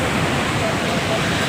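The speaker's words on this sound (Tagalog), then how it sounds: "Ang lakas ng alon." Strong waves at a beach where people are swimming, a loud, continuous broadband wash of surf that fills the short moment without pause.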